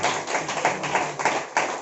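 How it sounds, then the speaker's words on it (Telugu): A church congregation clapping their hands during a service, a quick run of sharp overlapping claps in an uneven rhythm, fairly close and alone. "చప్పట్లు కొట్టి యేసయ్య."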